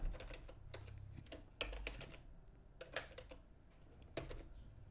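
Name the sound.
typing a command on a computer keyboard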